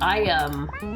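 A cartoonish cat meows from the idle game Chonkers, a drawn-out rising and falling mew heard up close, with a short spoken interjection layered over it.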